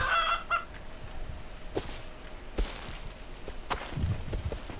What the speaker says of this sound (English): Darn chicken! Quit running from me.